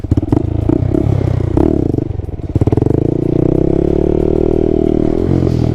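A small Honda Grom motorcycle engine revs loud and close while riding wheelies, its buzzing note rising and falling with throttle changes and some rattling clatter, and no one talking.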